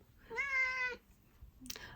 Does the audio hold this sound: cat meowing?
yes